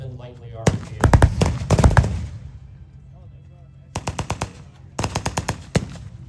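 A .50 caliber machine gun fires several short rapid bursts, loud and sharp, with pauses between the volleys.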